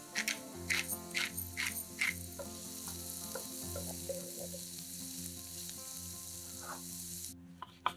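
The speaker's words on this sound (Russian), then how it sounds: "Обжариваем лук с грибами до золотистости." Onions and mushrooms fry in a pan until golden, giving a steady, quiet sizzle, with a few sharp scraping strokes of stirring early on and a low hum running underneath.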